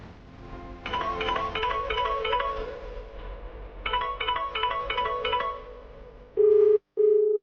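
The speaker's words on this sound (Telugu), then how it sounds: "రింగ్ అవుతుంది" A telephone rings in repeating electronic bursts of warbling tones, separated by short pauses, then gives way to two loud steady beeps at the end, heard close and clear with no talking.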